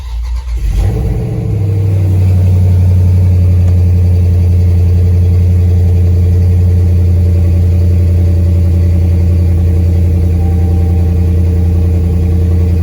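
A Dodge Charger with a 392 Scat Pack engine, running without its air box, cranks and fires up loud and close, then settles into a deep, steady rumble with slight rev fluctuations.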